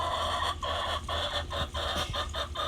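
A pet hen clucks indoors, a steady rhythmic series of short clucks at about two per second, fairly close and continuous under a faint hum.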